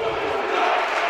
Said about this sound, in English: Cuts down the crowd noise for a little bit